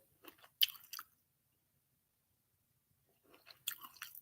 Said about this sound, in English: I got to be careful of chewing here